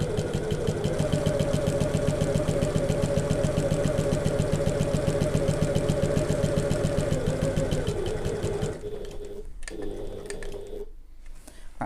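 A sewing machine stitching a long straight seam on a handbag, with a fast, steady mechanical whirr and rapid needle ticking that holds for about nine seconds, then slows into short bursts and stops between them, close and with no voices.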